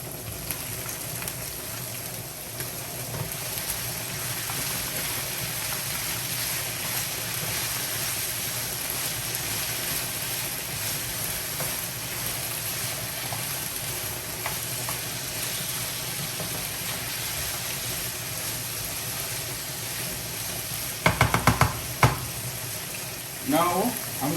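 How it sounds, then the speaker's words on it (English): Broccoli sizzling in a pan for beef and broccoli, a continuous hiss of frying for over twenty seconds, with a few louder scraping stir sounds near the end. "Also gonna add my broccoli"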